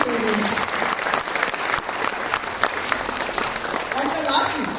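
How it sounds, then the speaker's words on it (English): Audience applause for parents at a Bharatanatyam Salangai Pooja dance ceremony, a steady dense clapping from a sizable crowd filling the whole stretch at full strength without letting up. "Please give them a big round of applause."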